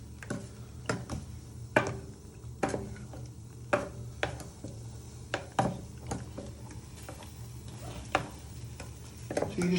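A sugar mixture for lemon meringue pie stirred in a saucepan: repeated spoon taps and scrapes against the pan in an uneven rhythm over a low background hum, fairly quiet, with no talking.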